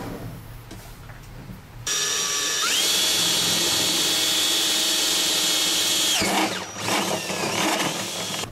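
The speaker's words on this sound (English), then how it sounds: "Using a multi-step drill bit, drill the holes in the boxes and join them together using the flex conduit." A multi-step drill bit on a power drill bores holes through electronics boxes for a solar-powered weather station, a loud sustained whining grind that starts abruptly, runs steadily for several seconds, then stops with brief follow-up bursts.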